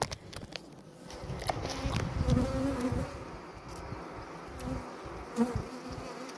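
Honeybees hum in a hive as it is opened for inspection after spreading into the honey super, giving a close, swelling buzz with soft rustles and taps.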